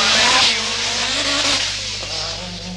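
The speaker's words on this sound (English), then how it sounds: "the first of the new S4 Delta Lancias, both supercharged and turbocharged" A supercharged and turbocharged Lancia Delta S4 rally car on its World Championship debut roars past at a rally stage, a loud, sustained engine note with rising and falling pitch and a hint of tire noise.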